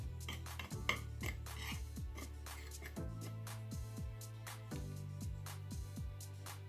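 A utensil stirs a breading mixture of cornstarch and salt in a bowl, giving soft repeated scraping and clinking at close range. It sits over a low, steady background tone with a few sharper taps, and nobody speaks.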